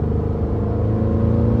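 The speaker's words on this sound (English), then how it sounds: "567 furious ponies ripping their way through a quad exit exhaust system" A Jaguar F-Pace SVR 575 roars loudly through its quad exhaust, a deep, heavy engine rumble held steady and close with no break and no voices.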